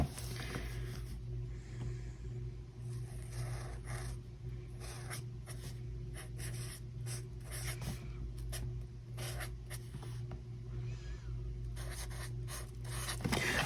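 Pen writing in a planner, soft scratchy strokes in short repeated bursts over a low steady background hum, close and quiet, with no talking.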